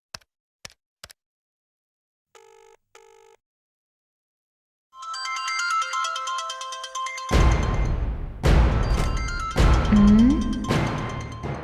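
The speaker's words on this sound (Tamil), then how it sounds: "ஃபோன் அடிக்குது." A phone ringtone in a Tamil TV drama scene plays as a short tonal melody, then repeats louder over several heavy crashing hits, sounding close and fairly loud with no talk.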